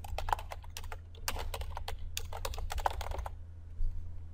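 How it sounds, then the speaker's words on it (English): Rapid, continuous typing on a computer keyboard, with dense clicking keystrokes at a close distance over a low steady hum, with no voices. "And you can type your text."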